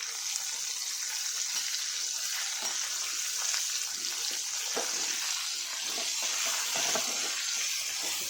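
Onions sizzling and frying in a pan with coriander-cumin powder and turmeric for a whole-onion curry, a steady bright hiss with small crackles and stirring scrapes, close and continuous with no talking.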